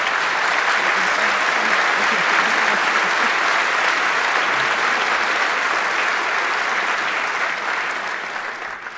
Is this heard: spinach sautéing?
no